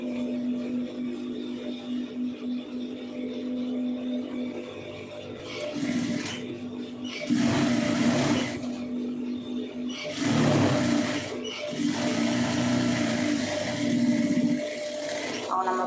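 A sewing machine runs in several bursts of steady mechanical whirring, stitching a neck design on a garment, close and fairly loud with a constant motor hum between runs.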